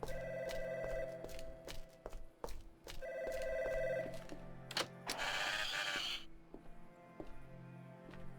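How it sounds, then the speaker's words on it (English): A telephone rings twice inside an ADACA video game. Each ring is a trilling bell burst, backed by a steady game soundscape and a sudden noisy crash near the end. "Seems like the phone is ringing again."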